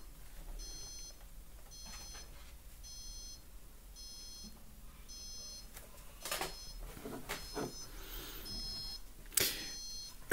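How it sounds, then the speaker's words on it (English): Electronic device emitting a steady series of short, faint high-pitched beeps at a regular rhythm, with some handling clatter and background noise. "It beeps for a minute, no matter what you do."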